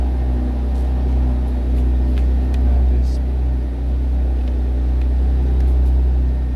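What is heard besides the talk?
noisy Porsche engine in background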